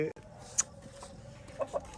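A hen clucks in a few short, sharp calls over a low steady hum, with a voice faintly in the background between the calls.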